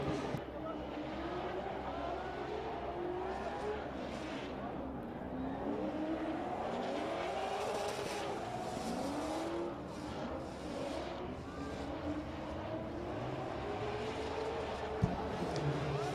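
Tandem drift cars at a drift competition sweep through the outer zone toward the wall, with a steady engine drone and wavering tire squeal held under continuous commentary.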